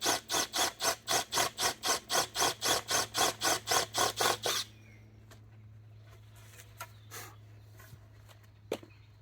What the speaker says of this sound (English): I'm just going to drill down slightly just to recess the board level